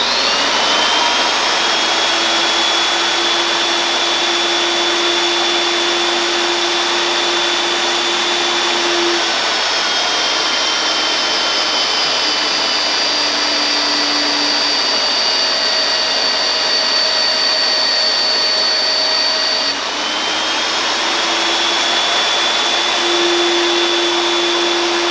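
A magnetic drill bores a large hole in metal with cutting fluid, a loud continuous high-pitched motor whine with steady tonal humming that shifts pitch slightly as it cuts, running alone for about twenty-five seconds.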